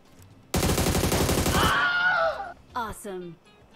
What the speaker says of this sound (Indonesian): Ada suara tembakan.